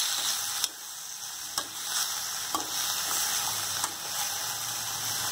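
Chopped sorrel (chukkakura) leaves are stirred into chutney in a pan under a steady sizzle. Faint scrapes of the spoon land every second or so, close and without speech.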